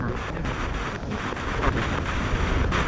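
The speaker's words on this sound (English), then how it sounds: "It's a bit windy." Strong wind buffets a microphone on an exposed bridge, a steady low rumbling roar that swells and gusts throughout with no other clear sounds.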